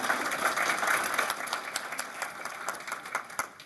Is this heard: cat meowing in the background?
no